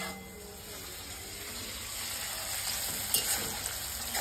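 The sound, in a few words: onions frying in a pan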